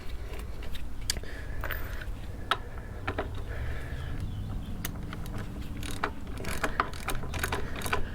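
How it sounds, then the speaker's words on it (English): A ratchet torque wrench tightens a 19mm motorcycle wheel axle nut, giving a steady run of close, rapid metallic clicks with occasional sharper ticks over several seconds. "Go ahead and tighten that. I do have my torque wrench."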